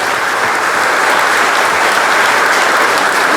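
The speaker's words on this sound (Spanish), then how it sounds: "Sí, démosle un fuerte aplauso." A crowd at a birthday celebration for a priest breaks into loud, dense, sustained applause, a thick continuous wash of many hands clapping with no pauses.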